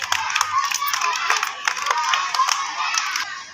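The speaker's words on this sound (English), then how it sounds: "All of you claps." Kindergarten children at a school activity clap for a winner, with brisk, uneven bursts of small hands close by mixed with excited shouting and chatter.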